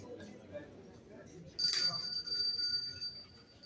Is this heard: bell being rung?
yes